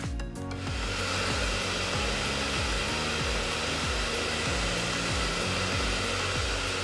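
Ikonic Pro 2800 hair dryer switched on at medium airflow: a brief click, then a loud, steady, close-up whooshing blow with a low motor hum that continues evenly to the end.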